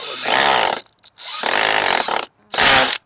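Three loud, close bursts from a power drill driving into wooden fence boards, each whirring run separated by a short pause, with the last burst revving highest.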